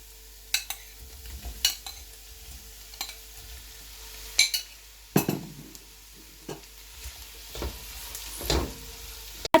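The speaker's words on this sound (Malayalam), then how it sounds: "ഇനി നമ്മുടെ കുക്ക് ചിക്കൻ അതിനകത്തോട്ട് ആഡ് ചെയ്ത് മിക്സ് ചെയ്യാം" Cooked chicken is stirred into frying garlic and onions, bringing a soft continuous sizzle broken by about a dozen sharp scrapes and clanks of a spoon against the pan, spaced irregularly and heard up close.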